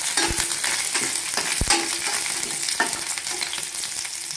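Garlic frying in a spoonful of oil for a sambar masala, a steady close crackling sizzle broken by a few sharp stirring clacks and scrapes.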